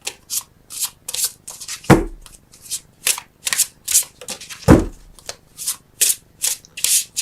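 Tarot cards shuffled by hand in a steady run of riffling strokes, close and crisp, with a couple of soft thumps as the deck is tapped. No one speaks.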